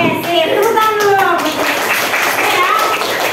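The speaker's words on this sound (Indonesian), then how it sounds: "Tepuk tangan dulu." A class of schoolchildren claps together in a classroom. Children's voices and an adult's talk run loud over a dense patter of hands.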